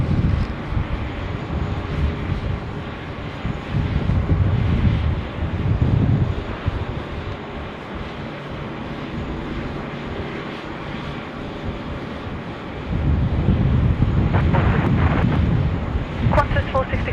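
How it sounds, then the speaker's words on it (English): Jetstar Airbus A320 arriving on runway 16 right at Sydney Airport, a steady broadband jet roar with wind buffeting the microphone, swelling loudest near the start and again toward the end. "Next in on 16 right is Jetstar 516. That's an A320 on the milk run."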